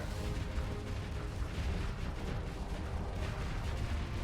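Ship weapons in the StarSector space game fire in a continuous, rumbling stream of overlapping blasts, steady and moderately loud, with no voice over them.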